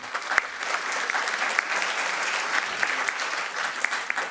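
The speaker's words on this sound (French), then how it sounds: "Merci beaucoup Arnaud Florentin, on peut vous applaudir." Audience applause at a scientific conference session on indoor air quality, a steady broadband wash of many hands clapping that holds evenly throughout at moderate level, with no voices over it.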